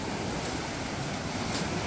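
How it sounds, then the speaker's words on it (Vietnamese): Large ocean waves on a beach at night make a steady, broad roar of surf, continuous and enveloping with some wind noise, no voices. "Nghe sóng lớn quá lên tới tận đây luôn."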